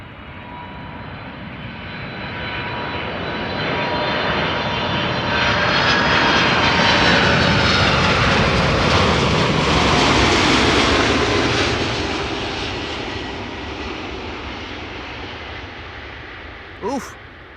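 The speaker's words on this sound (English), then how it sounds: "Make a nice and loud landing." A Cargolux Boeing 747 in retro livery lands, its roar swelling over several seconds to a loud, broad rumble and then slowly receding, with a brief sharp knock near the end.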